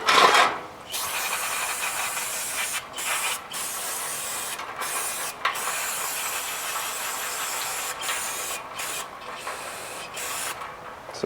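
Brake cleaner hisses from an aerosol can onto a Jeep's brakes. Several long, close spray bursts are separated by short pauses, and no one talks.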